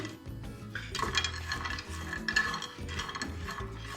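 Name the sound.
dry roasting almonds and chickpeas in a pan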